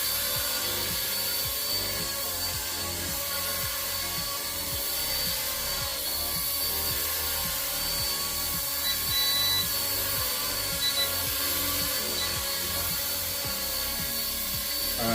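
A small XK K170 UH-60L Black Hawk brushless RC helicopter hovers indoors in a tiny room, its steady high-pitched rotor and motor whine continuous and close throughout, with a faint rhythmic chop underneath and no talking.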